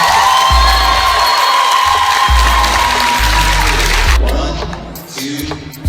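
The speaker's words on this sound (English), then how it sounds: "So give yourselves a big round of applause." A convention audience at a Toonami event applauds and cheers, a dense continuous wash of clapping with whoops and shouts, loud and close, fading slightly toward the end.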